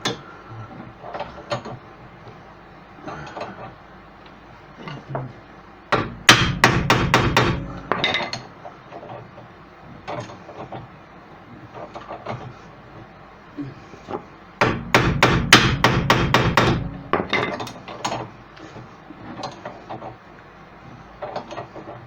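A hammer taps repeatedly on a tight rear trailing arm hub bush on a 2001 Alfa Romeo 156 during a suspension repair, with two loud bursts of rapid metallic blows between quieter scattered knocks and workshop handling.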